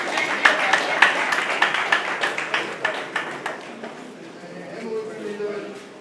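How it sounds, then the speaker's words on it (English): Audience at a CONYSSA and NDLEA anti-drug-abuse event clapping for a guest, a quick run of distinct claps that thins out and fades midway, giving way to a quieter room with a murmur of voices. "give him a round of applause for that"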